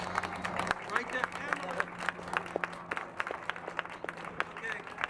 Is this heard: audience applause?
yes